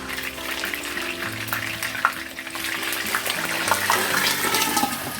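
Plantains cook in a pan with a little water for Haitian fried plantains, giving a steady bubbling sizzle with scattered pops and crackles throughout, fairly close and continuous, with no speech.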